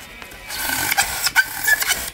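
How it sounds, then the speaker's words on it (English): An insulation knife slicing through Celotex insulation board, giving rough, scratchy cutting strokes that rise and fall in short bursts, close up and without talk. "With our insulation knife, you get a clean cut like this."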